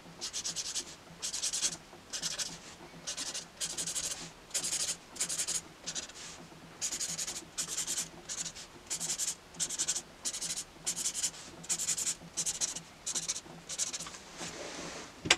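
A pen scratches across paper in quick bursts of short strokes as scratchy, straight letters are drawn freehand, close and fairly quiet, with brief pauses between strokes.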